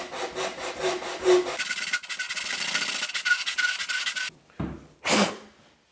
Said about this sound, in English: I've glued, spray glued some sandpaper, 100 grit sandpaper, onto a scrap piece of skirting